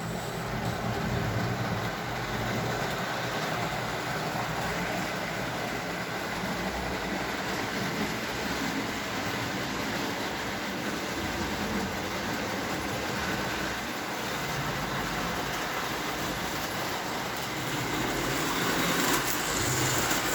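A high-rail model train locomotive runs on its track, its wheels slipping slightly before it pulls away, giving a steady, continuous rolling hum with no traction tires fitted.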